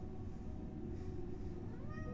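Several cats meow in a home, a few clear calls rising over a steady low background hum with no talk.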